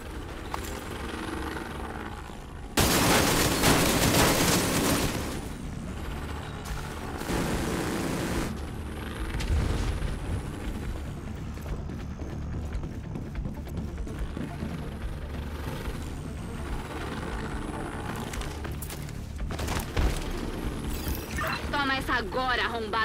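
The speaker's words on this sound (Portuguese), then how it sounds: "essa explosão arregaçou tudo" A large ammunition depot blows up in a cooperative video game, a sudden loud broadband blast about three seconds in, followed by sustained roaring rumble and later secondary bursts, with game sounds and voices talking underneath.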